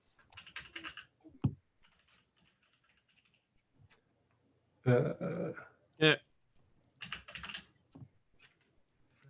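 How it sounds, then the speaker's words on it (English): Typing on a computer keyboard comes in short clattering bursts of keystrokes, close and fairly clear, broken by pauses, while voices speak briefly during an online design session. "Yes, I'm typing."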